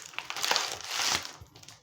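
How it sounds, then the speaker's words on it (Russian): A thin 60-micron laminating film sheet is pulled out of its plastic packet, with close crinkling and crackling of plastic in a dense burst that fades toward the end. "Пленка для ламинирования выглядит вот следующим образом. Упакована в еще один пакетик. Достаем."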